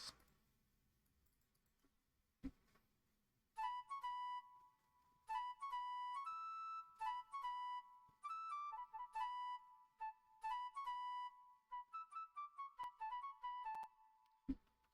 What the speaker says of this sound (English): the preset I used for that is flute vibrato in purity